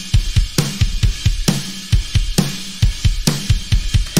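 A drum kit plays a steady groove on its own, punchy kicks and crisp snare hits repeating in a tight rhythm, loud and close.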